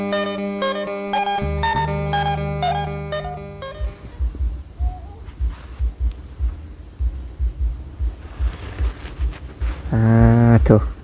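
Cattle moo in several deep, drawn-out calls, near and loud, after an opening stretch of music, with a strong final bellow at the end.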